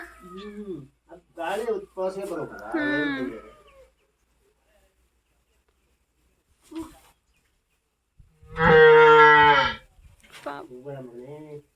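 A cow in labour delivering a calf lets out a loud, drawn-out moo near the end, while people nearby talk and call out in bursts around it with quiet gaps between.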